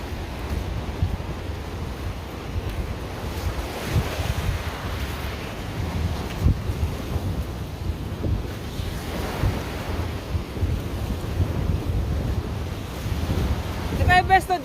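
Strong, high sea waves rush and surge around a small boat, with heavy wind buffeting the microphone in continuous loud gusts and washes and occasional faint voices in the background.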